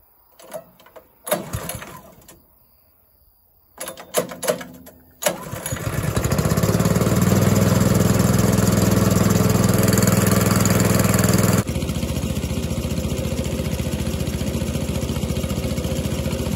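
In a workshop, a few scattered clanks and knocks come first, then an air compressor kicks on with a loud, steady running drone that shifts to a slightly different tone partway through and keeps going to the end.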